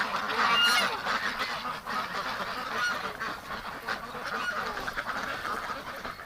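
A busy chorus of duck and goose-like calls from a winter flock in the early morning, many birds honking and quacking together at moderate distance, steady throughout with no talking.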